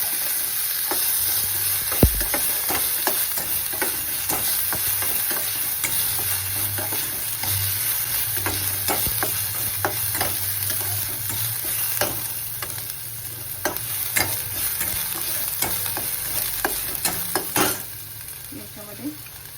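Chopped onion sautés in a pan for spiced vermicelli, giving a continuous soft sizzle broken by frequent scraping clicks of a spoon stirring, close and alone without speech.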